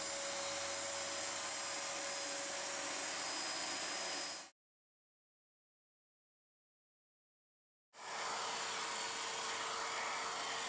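A Dyson DC28 upright vacuum cleaner whines and hisses steadily, cuts off completely for a few seconds, then starts up again at the same level.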